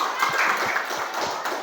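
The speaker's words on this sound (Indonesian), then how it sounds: "Tepuk tangan." A classroom of students breaks into brisk applause, a dense patter of clapping that is steady and fairly close.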